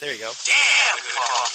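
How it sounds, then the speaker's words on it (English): A voice comes through a heavy echo and reverb effect, the trailing repeats smearing his short spoken lines like sound in a stadium, loud and close throughout. "like in a stadium, with the echo reverb effect"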